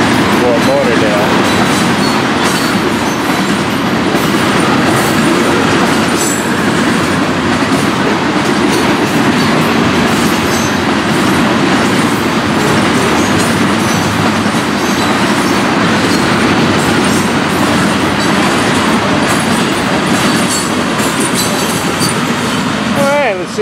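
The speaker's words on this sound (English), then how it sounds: "Get this train safely down the line." A loud, continuous rumble of a Florida East Coast freight train rolling past with rhythmic clickety-clack and occasional faint wheel squeal, steady throughout.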